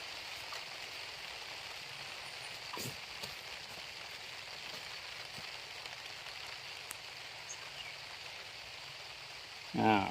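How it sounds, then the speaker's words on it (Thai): Light rain falls steadily over a yardlong bean plot, a soft, even patter and hiss with no pauses throughout. "ฝนตกเลยครับตอนนี้ แต่ไม่แรงนะครับ"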